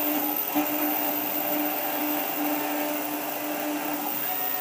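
A Hermes Vanguard 4000 engraving machine spins a diamond drag bit, producing a loud, constant motor whine with a steady tonal hum, unbroken and close.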